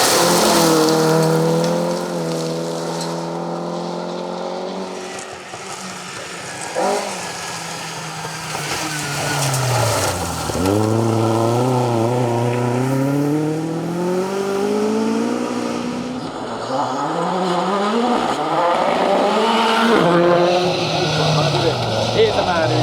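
A rally car from the Anglo Caledonian Rally 2024 drives at speed in difficult conditions, its engine note rising and falling through gear changes and revs, loud and continuous, with a commentator talking over it.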